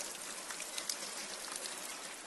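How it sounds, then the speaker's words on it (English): Steady rain falls on a Memorial Day weekend, a dense, even hiss of drops on surfaces with occasional brighter spatters, continuous and moderately loud with no voices. "It's raining again."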